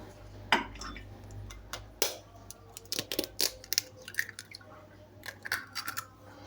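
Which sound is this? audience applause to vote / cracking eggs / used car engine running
cracking eggs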